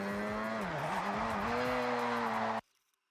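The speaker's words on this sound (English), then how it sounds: "You want to build up as much speed as you can and just throw it into a drift." A car drifting in Forza Horizon 6, with a loud engine holding a steady howl under a continuous screeching tire squeal for over two seconds before it cuts off abruptly to near silence.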